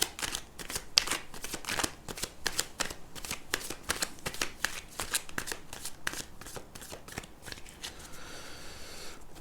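Thoth tarot cards being shuffled by hand, a rapid series of crisp riffling flicks close up, quiet and continuous, with no speech.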